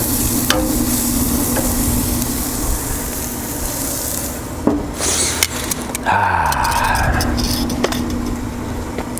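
Tri-tip steak searing on a Camp Chef Woodwind grill outdoors, a loud continuous sizzle with a steady hum beneath and a few scrapes and knocks as the meat is rotated on the grate.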